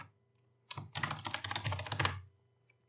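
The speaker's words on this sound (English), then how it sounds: "So we type that in." Computer keyboard typing a place name, a townland, into a national monuments reporting form: a dense burst of quick keystrokes lasting a bit over a second, close and clear in a quiet room, with no talking.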